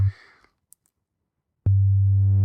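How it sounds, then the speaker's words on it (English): Single sine wave from the Cosine phase distortion oscillator in Drambo, a pure low steady tone that cuts off, a brief silence with tiny clicks, then the tone sounds again loud and sustained as bright harmonics creep in. "you heard how it sounded with just a single sine wave"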